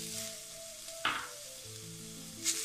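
Chilli powder, coriander powder and a tomato fry together in a pan. A faint, soft sizzle sits under quiet tonal background music, with one louder sputtering burst around the middle.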